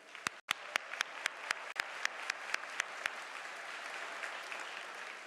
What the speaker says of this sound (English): Please join me in a round of applause for your faculty.